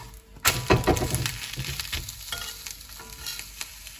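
A dosa cooks on a banana leaf laid in a hot pan, sizzling close by. Sharp crackles and brief scraping knocks ring out early, then a lighter, uneven frying hiss continues without talk.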